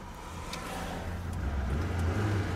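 A Lada Niva engine running on a road in second gear, a steady close drone that swells slightly as the revs climb, with faint rattles over the hum.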